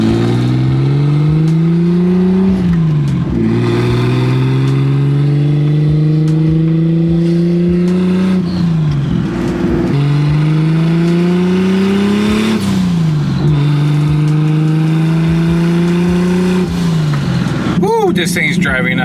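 A JDM car engine revs repeatedly while driving, climbing in pitch through each gear then dropping at the shifts, loud and close from inside the cabin, with a brief burst of other noise at the very end.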